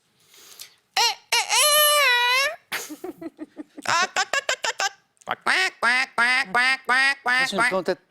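A person on a French TV quiz show imitates a duck, giving a string of rapid nasal vocal quacks in bursts, loud and close, with short gaps between the calls.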